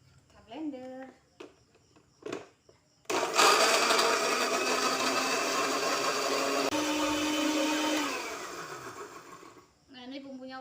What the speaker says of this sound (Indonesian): Kita blender.